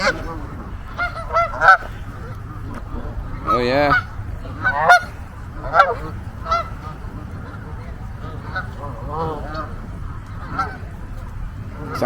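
A flock of noisy geese honks and squawks continuously, with several sharp nearby calls overlapping and some birds sounding as if they are squabbling. A person speaks briefly over the din.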